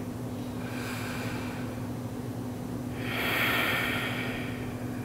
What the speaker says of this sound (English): Taking one more full breath here.